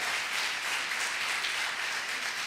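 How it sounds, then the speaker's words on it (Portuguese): A church congregation applauds steadily and loudly, a dense wash of clapping that holds at an even level from start to finish with no voices standing out. "se vai aplaudir, então aplaude bem forte a presença, mais forte, a presença do nosso Deus"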